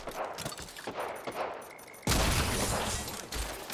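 Gunfire in the video game Apex Legends, with bursts of rapid automatic shots and then a sustained loud volley of fire from the midpoint onward, close and intense, with no one talking.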